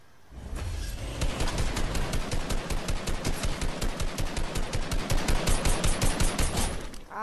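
A video game weapon fires a long, rapid automatic burst of evenly spaced shots for about six seconds, steady and fairly close, ending abruptly.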